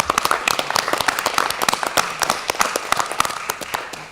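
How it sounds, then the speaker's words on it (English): A round of applause breaks out at a clean energy board meeting, a room of people clapping steadily for several seconds, dense and fairly close, with no voices over it. "would it be appropriate to offer ex-Chair Corrigan a round of applause for the excellent job that she did?"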